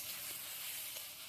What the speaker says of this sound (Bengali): আর এখন করছি বেগুন, শিম, আলু দিয়ে একটা ভাজা